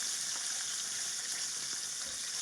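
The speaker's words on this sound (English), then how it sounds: "Frying chicken." Battered chicken pieces fry in hot oil over medium-high heat, giving a steady, dense sizzle that holds even and close throughout with no voices.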